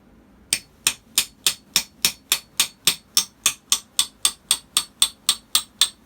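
Hammer blows driving a drift pin into a Spartan locker in a 1999 Jeep Cherokee XJ, about sixteen sharp metallic strikes in a steady, even rhythm, close and loud with no speech.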